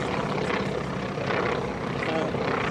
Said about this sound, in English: The T-28 breaking over theater in the woods.